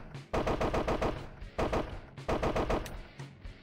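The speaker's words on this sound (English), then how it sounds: "Okay, that's the rifle." Rifle gunfire in a side-scrolling mech shooter video game: loud rapid automatic bursts, three separate volleys of fast repeated shots with brief pauses between them.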